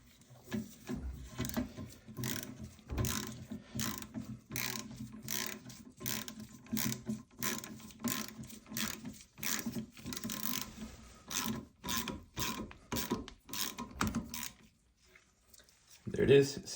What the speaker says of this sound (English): you're gonna tighten it down with a wrench or a socket till you snap the head off